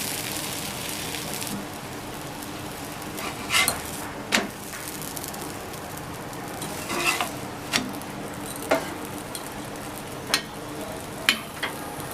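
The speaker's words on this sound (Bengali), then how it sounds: "আমি ওইভাবে আরেকটা পরোটাও ভেজে দেখিয়ে দিচ্ছি" Potato-stuffed aloo paratha frying in oil in a pan, a soft steady sizzle running throughout with occasional light clinks and scrapes of a utensil against the pan.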